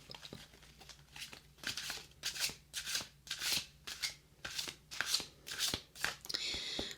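A tarot card deck is shuffled in repeated riffling bursts, crisp and close, with short pauses between each pass.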